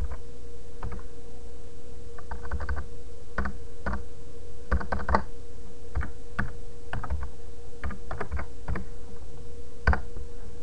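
Irregular bursts of keystrokes on a computer keyboard, close and clear, with short pauses between runs of taps over a steady background hum.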